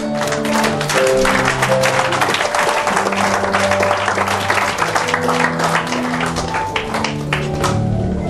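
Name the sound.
congregation applauding and cheering the Lord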